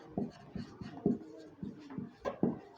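Pen strokes write numbers during a Class 6 NCERT maths lesson, a series of short, close scratchy marks in an irregular rhythm with no speech over them.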